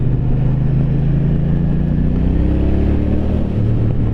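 A 2023 Triumph Bonneville T120 motorcycle engine runs loud and close while riding, a deep steady drone with a pitch that climbs gradually and then settles.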